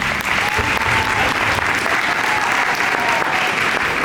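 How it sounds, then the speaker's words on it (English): Audience applause fills a media day gathering, a dense, steady wash of clapping hands that stays loud and even throughout with no talking over it. "Give her another round of applause."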